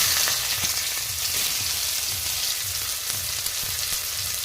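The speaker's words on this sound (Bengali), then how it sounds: "পেঁয়াজটা খুব ভালোভাবে ভেজে নেবো" Chopped onions fry in hot oil with cumin seeds, a steady close sizzle and hiss with soft, regular low bumps as the pieces shift in the pan, no voices.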